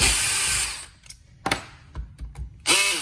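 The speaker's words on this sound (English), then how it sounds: "And then remove these case bolts." A power tool removes the case bolts from a Brose e-bike motor: a loud whirring burst, then short clicks and brief zips, then another sharp spin-up, all close.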